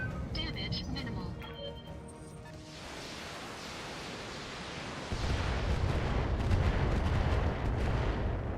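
An LRM missile barrage in the BattleTech game arrives as a broad roaring rush of explosions that builds and grows louder in the second half, with talk heard early on.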